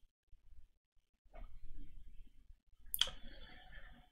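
A single sharp computer mouse click sounds close and crisp in a quiet room, preceded by faint soft handling rustle.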